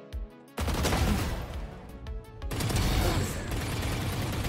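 Rapid gunfire in the tactical shooter game Valorant, dense bursts of shots running almost continuously and loud after a brief quiet opening, with other game sounds layered beneath.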